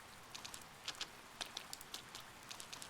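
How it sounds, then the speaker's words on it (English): Faint rain patters steadily in the game Persona 4 Golden, with a soft hiss broken by light, scattered drop ticks and no voices. "Too bad it's raining."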